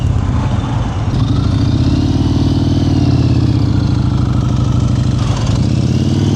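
A motorcycle engine hums steadily at low revs during slow-speed riding practice in North Carolina, loud and continuous with slight throttle variations and no talk.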